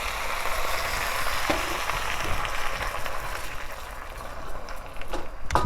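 Teriyaki sauce hits a hot pan of frying tofu and Brussels sprouts and sets off a steady, loud, close sizzle with crackling spits throughout.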